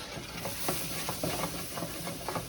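Seasoning fries in butter in a pan for gumbo, a dense crackling sizzle with quick stirring scrapes, close and continuous without voices.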